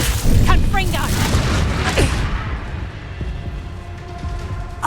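A Confringo spell blast in Hogwarts Legacy: a loud, booming burst right at the start, a crackling rumble and debris noise behind it, fading over a few seconds, with combat voices around it.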